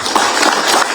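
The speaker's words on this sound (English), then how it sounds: "Give the both a big hand clap." A crowd claps in a dense, continuous burst of applause lasting about a second, at a public education launch event in Liberia.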